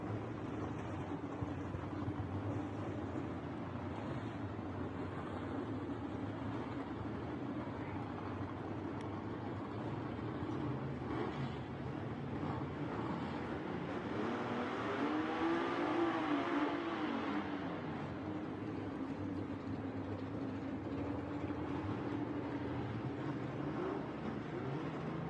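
Drag racing gasser cars, including the 1948 Anglia 'Crazy Pony', at Knoxville Dragway: a distant, faint engine drone that builds into a louder roar with a rising whine around the middle before settling back.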